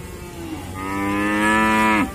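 Young Simmental cattle at a livestock market give a single long, loud moo, rising and holding strong before cutting off, with a shorter low lowing just before it and no talk.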